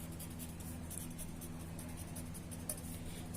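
Pen writing out a maths proof on paper, with soft, close scratchy strokes over a steady background hum and no talking.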